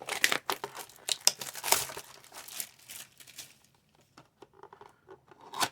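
Ripping open an A&G trading card blaster box: a quick series of crinkling, tearing bursts of plastic wrap and cardboard, close and loud at first and then tapering into sparse rustles.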